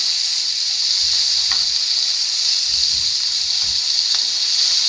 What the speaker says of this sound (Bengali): কই মাছটা ভাজা দিয়ে দিচ্ছি